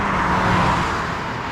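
A 2026 Honda Prelude hybrid drives during a handling test, a steady broadband road and engine roar heard from inside, loud and even over a short stretch with no talk.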